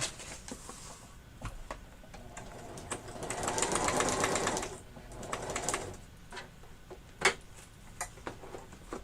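A sewing machine runs in short bursts over fabric using whatever thread is loaded, with one longer, louder stretch of stitching in the middle and small clicks and pauses around it.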